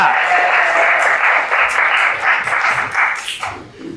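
A group gives applause after a class presentation in an Indonesian school, with dense clapping held steady for about four seconds before tapering off at the end.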